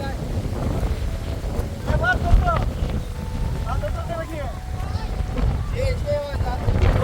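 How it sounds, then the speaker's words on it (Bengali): Strong wind before a hailstorm roars and buffets the microphone in a constant low rumble, with faint voices heard underneath. "অনেক অনেক বাতাস এখন তুফান আসবে"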